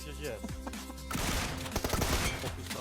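Rapid gunfire in the mobile battle royale game PUBG Mobile crackles in dense bursts, getting louder and busier partway through, while someone talks excitedly over it.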